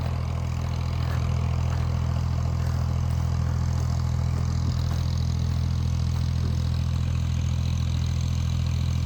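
A tractor engine runs steadily while driving a water turbine pump for field irrigation, giving a deep, constant low rumble with a chugging throb and no voices, held at one level throughout.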